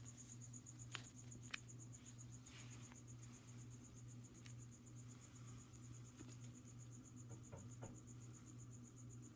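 Steady cricket chirping with a constant high trill, faint and continuous, plus a few scattered clicks and a low hum underneath.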